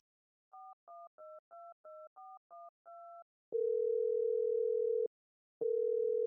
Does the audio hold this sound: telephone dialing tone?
yes